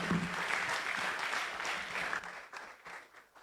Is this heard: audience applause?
yes